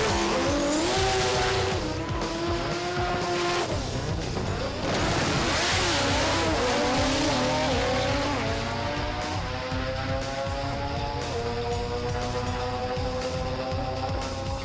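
Drag racing cars roar loudly through a side-by-side passing run at Sydney Dragway, engines howling and rising in pitch with squealing tires, sustained and close throughout.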